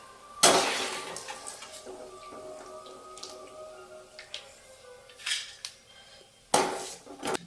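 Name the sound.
scooping fried ginger from a pan into a bowl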